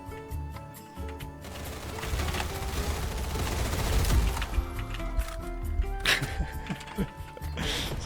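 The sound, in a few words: character death sound in a shooter video game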